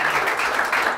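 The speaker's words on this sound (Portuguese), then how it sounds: "Pode aplaudir" Church congregation claps together in a brief, dense burst of applause, steady and fairly loud for its whole short span.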